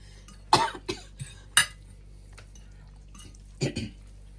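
A man coughs several times close up, in short bursts with pauses between, in an otherwise quiet room.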